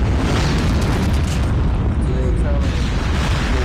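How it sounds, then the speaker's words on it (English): A Predator missile strike in Call of Duty Mobile rumbles as a loud, continuous booming roar of explosion and debris that fills the whole stretch, with talk over it. "Predator missile."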